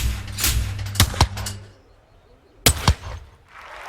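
A shotgun fires at clay targets in an Olympic Games shooting event: sharp, loud cracks come in pairs with quiet gaps between them, about five shots in all.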